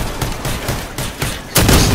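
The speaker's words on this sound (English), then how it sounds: "Shotguns are doing it." Shotgun blasts from a combat vehicle in the video game Crossout fire in a rapid, uneven series of about six loud, close booms, with a heavier burst near the end.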